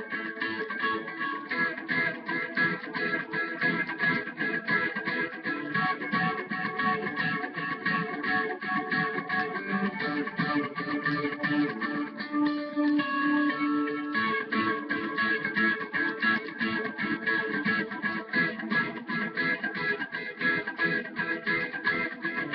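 An electric lead guitar plays a melody alone, a steady rhythmic stream of picked notes with sustained chordal ringing underneath, consistently loud and close from start to finish.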